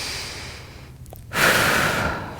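A person doing a deep breathing exercise, ribs expanding and contracting, draws a soft breath and then lets out a louder, rushing exhale near the microphone.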